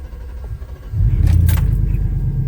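A Chevy Tahoe's 5.3 LS V8 fires up after a cam and crank position sensor replacement, the quiet crank giving way to a sudden loud, steady low rumble that settles into idle nearby.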